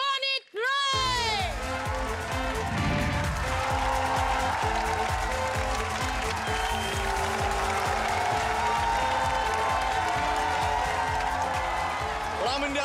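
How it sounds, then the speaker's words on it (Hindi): A studio audience on the Deal or No Deal game show applauds loudly to welcome host Ronit Roy, with sustained clapping blended with music and voices for over ten seconds. "जोरदार तालियों से स्वागत कीजिए रोनित रॉय"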